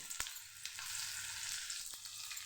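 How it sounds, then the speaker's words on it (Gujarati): Chopped green garlic sautés in hot oil with cumin seeds for a kasuri methi potato curry, a steady close sizzle with a few sharp pops. "જીરું સરસ ફૂટી જાય એટલે આપણે જે લસણ સુધારીને લીધેલું એ આપણે સાતળી લેશું"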